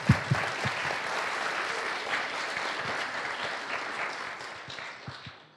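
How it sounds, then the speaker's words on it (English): Audience applause at a C++ desktop development talk, a dense steady wash of clapping lasting throughout with a few sharper claps standing out near the start and end, fading slightly at the close. "Let's hear your applause."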